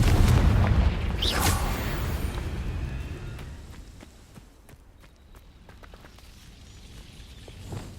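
A Confringo fire spell in Hogwarts Legacy bursts with a loud blast at the start. The blast rumbles and fades, followed by scattered footsteps and light impacts over quieter game ambience.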